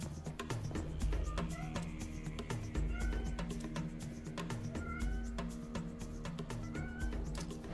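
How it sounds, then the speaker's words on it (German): Pet cats meowing repeatedly in the background, several drawn-out cries spaced through the clip over a steady low rumble of game music and sound. "Meine Katzen nerven gerade extrem im Hintergrund"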